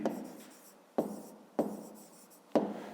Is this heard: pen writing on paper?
yes